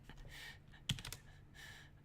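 Keys clack on a computer keyboard at a streamer's desk, a faulty model with a slash key that may be repeating. A few soft taps build to one sharper cluster of clicks near the middle, close and fairly quiet, with no talk over them.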